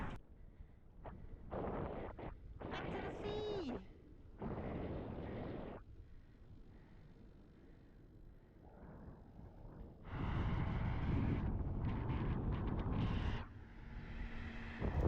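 Wind buffets the microphone of a cyclist riding into a headwind on a road in Libya, giving close, loud, rumbling gusts that come and go, heaviest and most sustained over the final five seconds.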